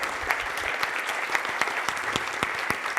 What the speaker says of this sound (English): let's give David and Mary a round of applause